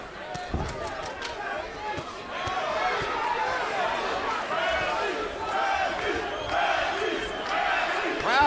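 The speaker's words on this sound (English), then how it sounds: "Crowd is beginning to chant for Tim Bradley." A boxing arena crowd at the Provodnikov vs Bradley fight roars and chants for Tim Bradley, a dense, sustained wall of voices rising through the stretch, with a commentator talking over it.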